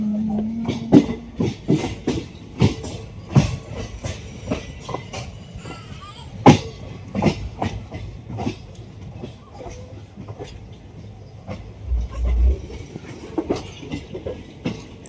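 The 13027 Kaviguru Express from Howrah to Azimganj running on the rails at night: rhythmic clickety-clack thumps of wheels over rail joints, loud and close, with occasional low voices.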